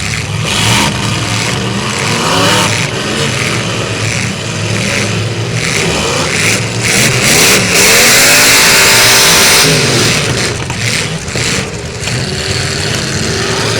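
A demolition derby car engine at a county fair struggles to keep running, loud and rough, coughing and revving unevenly with sputtering bursts throughout, with no talk.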